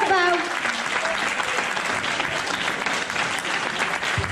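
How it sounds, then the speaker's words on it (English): A talent show audience at a school applauds the contestants, a dense steady wash of clapping across the whole stretch, with a faint voice audible at the very start. "And a one big last round of applause for the contestants."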